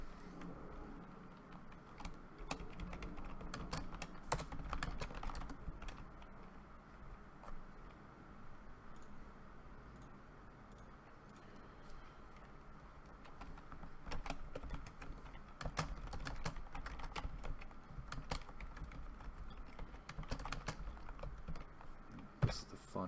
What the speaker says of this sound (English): I type all this stuff in.